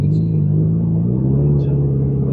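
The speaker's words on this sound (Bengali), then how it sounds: "এবার স্পিড নিচ্ছে গাড়ি" A car engine drones steadily as the vehicle picks up speed on an open desert highway with no speed limit, a close, continuous low hum for about two seconds with no voices.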